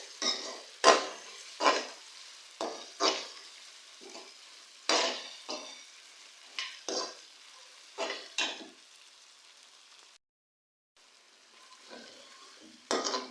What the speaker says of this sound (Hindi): तकरीबन 3 से 4 मिनट तक मैंने अदरक लहसुन के पेस्ट को प्याज के साथ फ्राई किया है